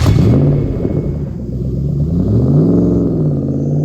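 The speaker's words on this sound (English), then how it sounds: "This is a 200SX with the 4-litre V8 1UZ with a massive turbo." Nissan 200SX fitted with a turbocharged 4-litre 1UZ V8 revs loudly and close, a deep rumbling engine note that dips briefly then climbs again, with no talking.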